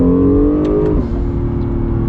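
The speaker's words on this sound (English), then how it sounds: "And the turbo noise." An Acura NSX supercar engine revs loudly up close, its strong tone sliding down about halfway and then holding a steady throaty drone with no one talking.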